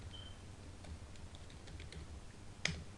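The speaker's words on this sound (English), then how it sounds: "so I'm typing it in all upper cases" Faint keystrokes on a computer keyboard while commands are entered, a few soft scattered taps over low room hum, ending with one sharper key press.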